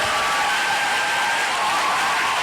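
A church congregation applauding and cheering for the Lord, a dense, loud, continuous wash of clapping and crowd noise filling the hall.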